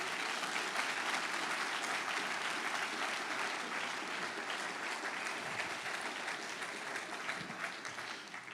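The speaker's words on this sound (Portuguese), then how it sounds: "Aplauda forte" Loud, sustained applause from a church congregation during a Quadrangular service, a dense wash of clapping that holds steady for several seconds and tapers slightly at the end.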